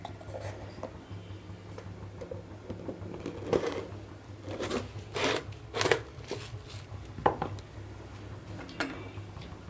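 A spoon scrapes and clicks against a pan while Bangladeshi-style chatpati is stirred after a pinch of sugar goes in, giving soft irregular rubbing strokes and a few sharper taps, close and fairly quiet over a low steady hum.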